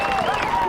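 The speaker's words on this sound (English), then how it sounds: "the Hanover faithful finally have something to cheer about" Home fans at a high school football game between Middletown and Hanover cheer a touchdown in a brief, loud, sustained roar of crowd noise and applause, with an announcer's voice mixed in.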